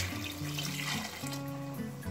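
Water poured from a cup into chicken curry cooking in a pan, a steady trickling splash running continuously and close up, with bright stovetop hum underneath and no talking.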